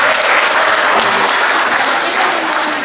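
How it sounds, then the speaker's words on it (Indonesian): Steady, dense applause from an audience at a live public event, loud and continuous for a few seconds with a faint background murmur. "Tepuk tangan buat ini."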